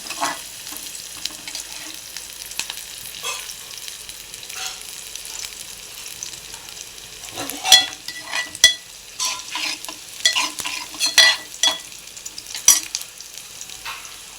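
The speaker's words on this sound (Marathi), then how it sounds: "हा चांगला लाल होईस्तर याला भाजायचा" Onions frying for kanda poha in a pan, a steady sizzle with intermittent stirring and scraping strokes growing busier toward the end, close and moderately loud with no talk.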